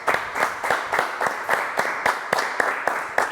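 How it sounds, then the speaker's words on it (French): Brisk rhythmic clapping in a studio during a live show, steady evenly spaced claps over about three seconds, close and moderately loud with no talking. "Et Alix, on va applaudir quand même."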